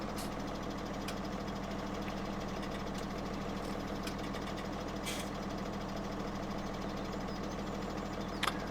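A tractor engine idles steadily in Farming Simulator 17, a constant low mechanical drone with a few faint clicks and ticks on top, with no talking.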